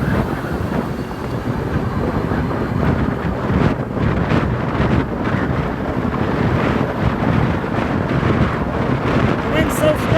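Strong wind at 31 miles an hour roars steadily and loudly across the microphone during an open-air ride home, a constant buffeting rush with no letup.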